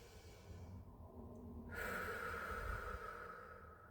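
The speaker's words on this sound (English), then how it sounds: "taken some deep breaths in through the nose and out through the mouth" A person breathes deeply in through the nose and out through the mouth, a soft, faint airy rush with one longer exhale swelling in the middle, quiet and without talk.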